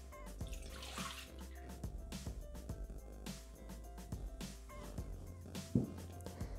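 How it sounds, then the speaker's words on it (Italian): Milk poured into a Thermomix (Bimby) mixing bowl, a steady liquid splashing and gurgling stream running throughout with a low background hum and a small clunk near the end. "Iniziamo la ricetta mettendo all'interno del boccale il latte."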